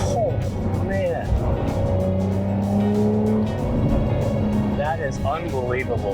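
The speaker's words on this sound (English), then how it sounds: "Since I got it tuned, it makes a little bit of a different noise." A tuned 2022 Porsche 911 Carrera Cabriolet drives along, its engine droning and rising in pitch close by while people talk excitedly over it.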